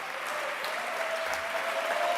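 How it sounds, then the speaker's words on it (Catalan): Audience applause at an award ceremony, a steady wash of clapping from a crowd, moderately distant and even in level throughout. "No cal aplaudir, sisplau"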